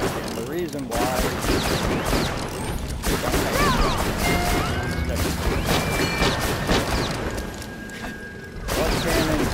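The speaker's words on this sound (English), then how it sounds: "the luck cannon is not banging for a bunch of damage" Continuous loud gunfire from the luck cannon in Borderlands: The Pre-Sequel, dense rapid shots and crashing impacts over busy game audio, with a brief lull near the end before firing resumes.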